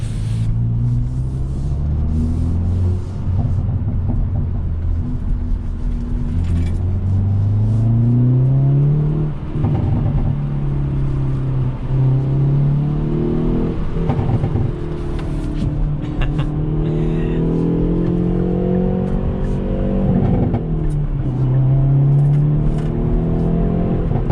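A 2021 Hyundai Veloster N engine drones and revs steadily for a long stretch at night, pitch climbing through gear changes and dropping back, loud and close with road rumble beneath.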